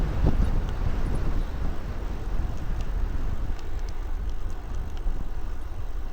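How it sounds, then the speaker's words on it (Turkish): Steady wind rushes and buffets against the microphone on a road near Marmaris, Turkey, a dense low roar with no pauses. "Sevmiyorum şu rüzgarı ama çıktık bir kere yola. Yer yer esiyor."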